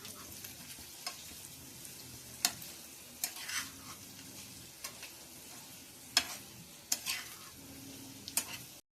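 Potatoes stir-fried with salt in a pan for a simple Indian potato dish, with a soft continuous sizzle and repeated sharp scrapes and taps of the spatula against the pan, close and fairly quiet.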